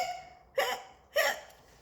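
A cartoon skeleton gives two distinct hiccups, close and clear, roughly half a second apart, with quiet pauses around them.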